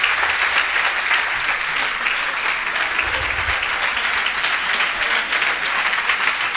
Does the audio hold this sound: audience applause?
yes